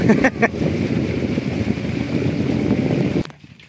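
A fishing boat's engine runs through an exhaust pipe mounted up high, giving a loud, steady low rumble with wind buffeting the microphone; the noise cuts off abruptly just before the end.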